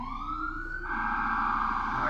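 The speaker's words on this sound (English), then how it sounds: "Let's let the sirens go by" Emergency vehicle siren passing on a downtown street, a loud continuous rising and falling wail that swells and grows harsher partway through, with no talking.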